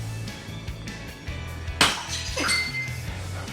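A single sharp glass smash rings out in a rage room, a bright crash with scattering shards following a low rumble of background music and room noise.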